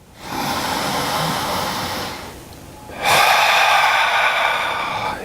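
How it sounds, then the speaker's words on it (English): Deep belly breaths, a long noisy inhale followed by a pause and a strong, airy exhale, close and clear with no talk over them. "So as you breathe in, big belly expansion. Let your breath out."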